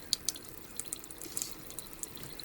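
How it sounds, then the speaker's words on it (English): Tap water runs at a salon sink while a basket of nail tools sits nearby. It comes through as a soft, steady trickle with scattered light drips and splashes, fairly quiet and close, with no talking over it. "Got the water on here"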